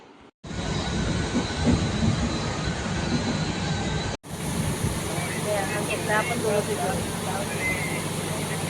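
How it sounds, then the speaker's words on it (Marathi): A passenger train near Panvel, stopped at a signal, with a steady rumbling carriage interior, a brief dropout, then continued low hum and faint squeal-like tones, with voices murmuring in the background. "ट्रेन थांबली इथं सिग्नलला पनवेलला"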